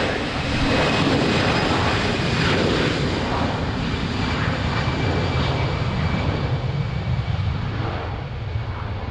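Airbus A330 engines roar in a steady, loud rumble while the airliner lines up on the runway at Lisbon Airport in rain, continuous and close with no voices.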